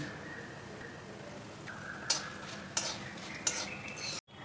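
Whole spices fry in oil for Kolhapuri masala, a low steady sizzle with a faint tone in the background and three sharp metallic taps of a utensil, ending in a sudden cut to silence.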